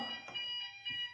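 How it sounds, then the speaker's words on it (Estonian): A library's anti-theft security gate beeps at a book that has not been checked out, giving repeated high electronic alarm tones close by with no talking. "kui töötajad on siin koha peale kuulevad, et turvaväravad piiksuvad"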